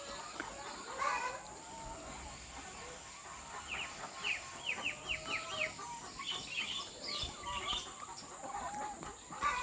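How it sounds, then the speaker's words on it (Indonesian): Laying hens in a free-range coop cluck and squawk in bursts at moderate distance, with a cluster of rapid calls near the middle over a low outdoor background. "Coba kita sambil masuk ke dalam kandang ayam petelur sistem umbaran ini"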